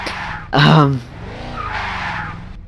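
A Jaguar F-Type convertible in a racing video game lets out a short, loud burst of engine and tire noise, then settles into a quieter, steady drone under a voice.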